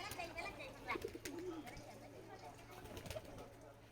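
Desi and Sirazi pigeons just let out of their opened coops, with soft coos and scattered calls over a steady low background hum and faint rustling, a voice speaking nearby.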